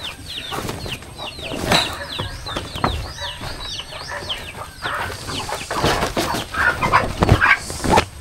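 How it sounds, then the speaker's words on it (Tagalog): Chickens cluck and squawk repeatedly while wings flap in several loud bursts, with scuffling and rustling throughout. "Ayun ang mga manok. Pumasok ng mga manok."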